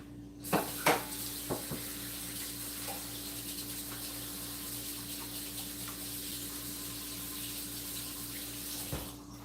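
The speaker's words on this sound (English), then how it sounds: "I'm going to go wash my hands" Tap water runs steadily into a kitchen sink during a home cooking session while hands are washed, with a few brief clatters near the start and a faint knock near the end.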